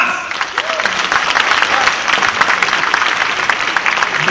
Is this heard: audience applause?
yes